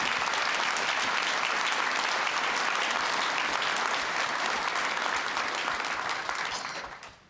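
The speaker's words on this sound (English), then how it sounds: "I think we should give him a round of applause." Audience in a hall applauding a retiring city worker at a State of the City address, sustained dense clapping from a big crowd that holds steady, then fades out quickly at the close.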